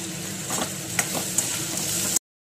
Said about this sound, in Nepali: एकछिन आलुलाई भुटेको गर्छु।